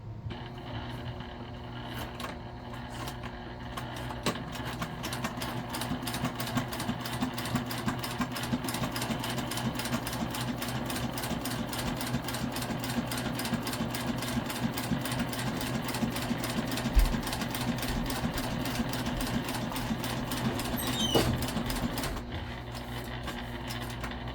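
A sewing machine backstitches a tote bag with a Microtex needle, a steady rapid mechanical whir of stitching running continuously and fairly quietly throughout.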